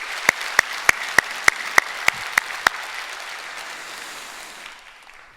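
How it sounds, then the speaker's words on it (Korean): A church congregation at a summer revival meeting applauds loudly and steadily, with about nine sharp rhythmic claps standing out before the clapping slowly fades out. "우리 하나님께 큰 영광의 박수 올려드리겠습니다"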